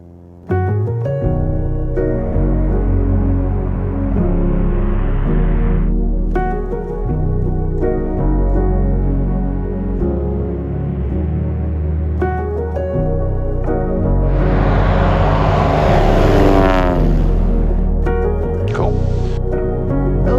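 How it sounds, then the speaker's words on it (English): A Beechcraft Bonanza takes off northbound from the Johnson Creek backcountry airstrip, its propeller engine giving a loud, continuous harmonic drone that swells and shifts in pitch over about twenty seconds, with no talking. "Johnson Creek, Bonanza 40 Golf Mike, taking off northbound."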